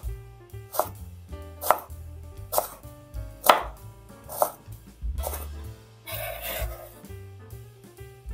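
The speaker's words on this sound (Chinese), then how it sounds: "再改刀，切成小丁" A knife dices carrot on a cutting board, striking in a steady series of sharp, close chops with short gaps between them, ending in a brief scraping rub.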